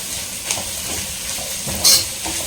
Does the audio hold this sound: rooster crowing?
no